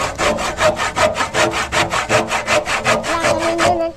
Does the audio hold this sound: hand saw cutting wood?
yes